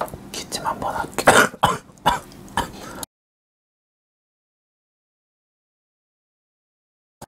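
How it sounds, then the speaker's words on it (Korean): Someone coughs and clears their throat several times in quick succession close to the microphone during an eating session, followed by abrupt silence. "기침 한번 할게요."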